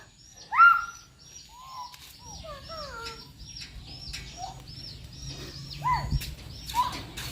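Chickens cluck and chirp in a loose, irregular chatter, with several birds calling over a low outdoor rumble and no one talking.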